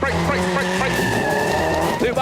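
A rally car brakes hard and skids, with a sustained tire squeal over a loud, steady engine roar close by, while people talk over it.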